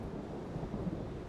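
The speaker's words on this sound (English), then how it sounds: "As the cyclone heads inland, it weakens and turns into a huge rain depression." Low thunder rolls through a heavy rainstorm as an inland cyclone weakens into a rain depression. It is a brief, dull rumble with a constant wash of rain.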